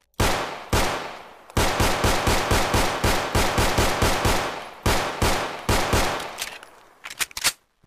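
An unsilenced OTs-33 Pernach pistol in Fallout 4 fires fully automatic in several rapid bursts, loud, sharp and close, with brief pauses between strings of shots and no talk.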